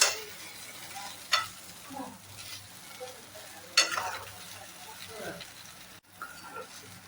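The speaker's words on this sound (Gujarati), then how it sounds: "તો આવી રીતે આપણે હલાવી લેવાનું" Gujarati patra, rolled colocasia-leaf slices, stirred in a hot pan: a steady sizzle of frying with scraping spatula strokes, close and continuous, while a person talks over it.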